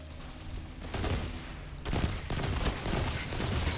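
Burst-fire weapon shots ring out in a video game, with short rapid volleys of gunfire starting about a second in and again near two seconds, sharp and fairly close over a steady background.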